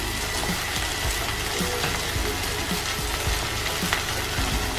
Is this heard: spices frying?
yes